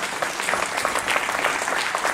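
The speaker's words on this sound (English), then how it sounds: "would you please stand up and remain standing so we can give you a round of applause?" An audience claps in a steady, moderately distant round of applause at a talk, the dense patter continuing evenly without voices over it.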